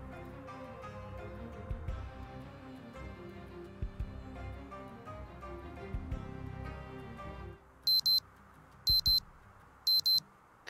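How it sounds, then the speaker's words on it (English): An alarm clock in the video game Project Zomboid goes off at 5 a.m., three loud sharp beeping bursts in a regular rhythm that cut in over a low, dim in-game ambience of music and soft thuds. "Set the alarm for..."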